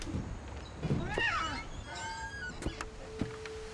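A cat meows outside in the video game What Remains of Edith Finch, rising and falling calls drawn out over a few seconds, moderately loud amid game ambience with brief clicks and a steady tone.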